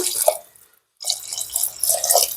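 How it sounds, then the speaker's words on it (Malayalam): Water poured into a pot for mutton stock for yakhni pulao splashes close and clear, in two bursts split by a brief silent pause, with no talk over it. "അപ്പൊ അതാ ഞാൻ വീണ്ടും വെള്ളം ഒഴിച്ചു കൊടുക്കുകയാണ്."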